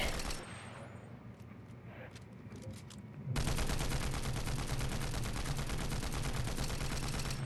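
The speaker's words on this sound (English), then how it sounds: "I feel like the recoil is much easier to manage in first person with this gun." Automatic gunfire from a weapon in Fortnite played in first person, a fast continuous rattle of shots that starts about halfway through after quieter game sounds, loud and sustained.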